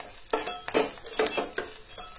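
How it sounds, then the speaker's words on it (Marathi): Ginger-garlic paste being stirred into a mixture in a kitchen pan, a spoon scraping and knocking against the metal in a quick, irregular series of clinks and scrapes. "सो ती बीन बरी मिक्स करून घेया."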